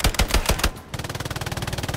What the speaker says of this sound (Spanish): Una ametralladora a mi izquierda